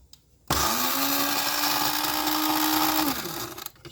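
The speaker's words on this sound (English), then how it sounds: "Wish I had a real blender." A small blender chopping parsley whirs on abruptly with a steady high-pitched motor whine, runs for a few seconds, then winds down as it switches off.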